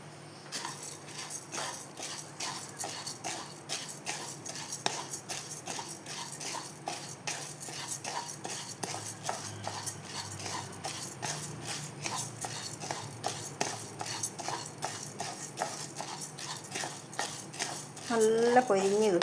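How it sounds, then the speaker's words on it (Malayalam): Raw ration rice roasting in a pan while being stirred, a steady run of scraping and rattling strokes throughout, with a brief voice near the end. "അപ്പം അരി നമുക്ക് വേഗം വറുത്തെടുത്താലോ."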